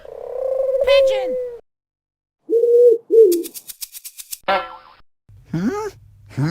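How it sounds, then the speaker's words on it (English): A cartoon pigeon coos among playful children's-show sound effects, including a rapid string of springy boings; the calls are short, loud and close, with pauses between them. "Pigeon!"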